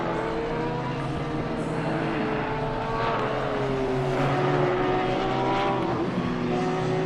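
Porsche and Honda race cars in an Indy sprint race on track, their engines droning loudly and continuously with shifting pitch as they chase each other closely.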